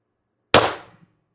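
A single sharp crack from an airsoft gun firing a 7.11–8.4 g steel ball bearing, loud and close, with a short ringing tail after a silent lead-in.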